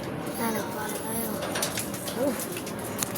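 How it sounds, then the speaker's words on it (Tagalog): Pigeons gathering to be fed, giving soft low coos with faint flutter and rustle amid outdoor background noise while a person talks nearby. "Tara, papakakain na tayo ng mga ibon."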